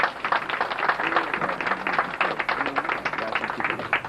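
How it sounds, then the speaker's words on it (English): At an awards night, an audience claps for an award recipient in a brisk, fairly close patter that surges and dips, with a few voices mixed in. "Please give her a round of applause."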